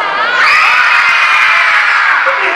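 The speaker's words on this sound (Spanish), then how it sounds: "Todos gritamos como loquitos." A crowd of children shouts and screams wildly together at a circus show rehearsal, one loud sustained burst of excited voices.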